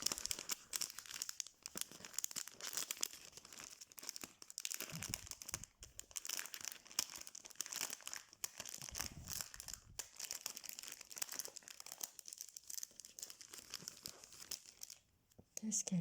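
A package being opened, its plastic wrapping crinkling and tearing in repeated close, quiet bursts, with brief pauses and faint talk in between.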